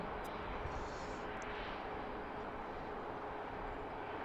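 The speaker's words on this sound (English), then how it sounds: "you can hear the aircraft sounds okay" A distant aircraft at BWI airport, a steady broadband engine roar heard faintly from outside, sustained and even with no voices.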